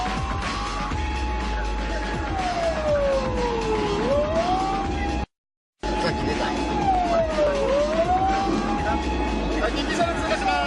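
A police car in Japan passes with its siren wailing in long falling-and-rising sweeps over loud traffic noise, broken by a brief dropout midway before the wail returns.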